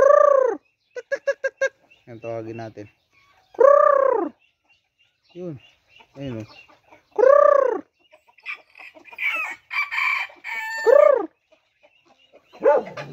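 Backyard free-range chickens, including Rhode Island Reds, cluck and squawk in loud, close calls with short pauses between, while a person talks and calls to the flock.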